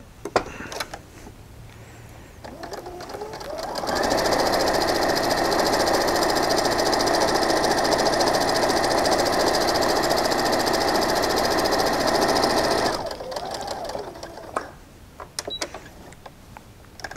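A sewing machine stitching quilt fabric, starting up and running at a fast steady whir for about nine seconds before stopping, with quieter handling sounds before and after.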